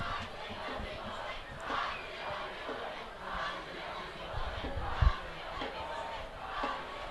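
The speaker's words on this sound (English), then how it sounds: "the student section's yelling their famous, "I believe that we will win" cheer" High school football student section chanting a rhythmic cheer in the stands at a Linn-Mar vs. Dubuque Senior varsity game, a dense roaring crowd with pulsing chant phrases and a brief thump near the end.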